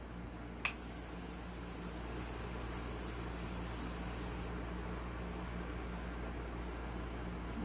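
A pump bottle of One/size setting spray lets out one long, fine misting hiss lasting several seconds after a small click, close and quiet over a low steady hum.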